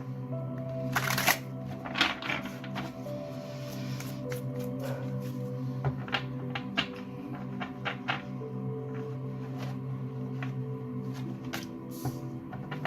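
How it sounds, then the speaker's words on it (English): A tarot oracle card deck, the Spirit Messages deck, is shuffled close by. The soft, papery riffles and shuffles are quiet and steady, with crisper flicks scattered throughout. "We're going to use the Spirit Messages deck first by John Holland, and then we'll use the Tao Oracle, and then maybe we'll pull a love card."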